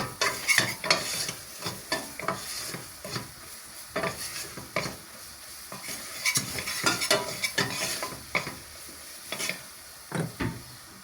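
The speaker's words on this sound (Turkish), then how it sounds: "Şimdi soğanını kavuracağım." Onion sautéed with toasted flour in a pot for vegetable soup, a soft sizzle beneath frequent rhythmic scraping and clinking of a spoon stirring against the pan.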